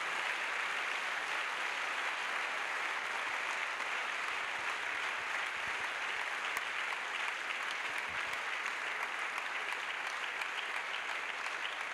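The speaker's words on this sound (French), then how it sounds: "Let us clap for Jesus Christ." A large congregation at an evangelistic crusade applauds steadily, a dense, sustained wash of clapping that stays even and loud throughout with no voices standing out.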